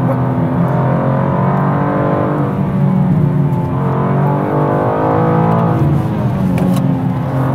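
A 2023 BMW M2 drives hard on the Nordschleife, a steady loud engine drone with whirring and tire and wind roar heard from inside the car, pitch swelling and easing as it accelerates.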